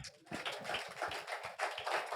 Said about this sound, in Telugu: ఎంతమంది చప్పట్లు కొడతారు